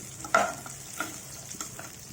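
Long beans tossed and stirred in a frying pan with fried tempering spices, giving a few scraping stirs over a soft background sizzle, close and moderately quiet.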